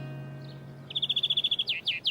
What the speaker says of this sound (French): Oiseau, oiseau.